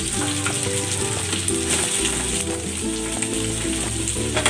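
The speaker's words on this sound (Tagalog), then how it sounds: "Isa nating maigi para mag-caramelize yung ating pork." Marinated pork pieces caramelize in a pan, sizzling loudly and steadily with crackling pops, close and continuous with no voices over it.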